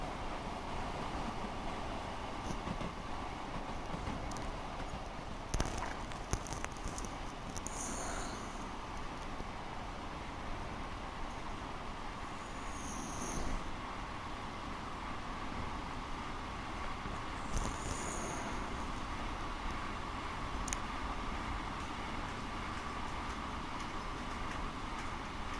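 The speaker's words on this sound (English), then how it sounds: "I believe that's the freighter on the right hand side" A freight train rolls past in Train Sim World on PS4 Pro, making a steady, dense rumble and rushing roar that holds for the whole stretch, with occasional faint higher squeaks and clicks above it.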